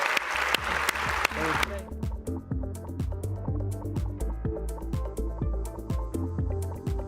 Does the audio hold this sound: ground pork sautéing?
no